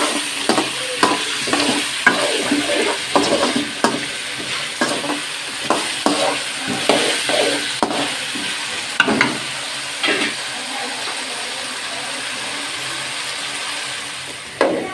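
Salted potatoes fry in hot oil while a utensil scrapes and stirs in repeated strokes, close and clear with no talking.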